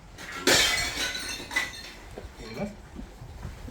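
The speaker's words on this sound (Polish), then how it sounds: "Hałas z boku sąsiadów, coś się dzieje. Szkło leci." A sudden crash of breaking glass from a neighbouring property, with shards clinking and settling afterward, followed by softer clatter, fairly close.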